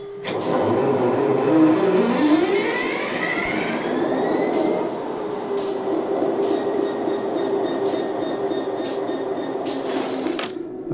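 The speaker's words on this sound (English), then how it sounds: "press the green button and the train will start" In Train Sim World 3, a Class 66 diesel locomotive's engine cranks and fires up. It rises to a rumbling idle with a climbing whine, then settles into a steady drone with several sharp clanks and hisses along the way.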